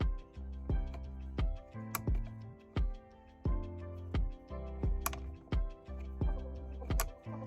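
Captive screws on a steering wheel airbag click as they are twisted loose, a steady run of sharp, close clicks and snaps in an uneven rhythm with no voices.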